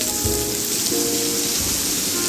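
Chopped onion frying in a pan for a Bengali flattened-rice pulao, a continuous close hissing sizzle with steady crackle and no pauses.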